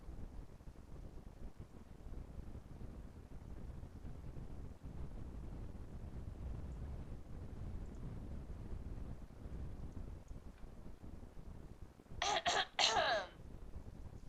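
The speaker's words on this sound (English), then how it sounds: "Sorry, I was clearing my throat." A teacher clears their throat in a classroom just before a math lesson, a brief, fairly close burst near the end after a long stretch of low, steady background rumble.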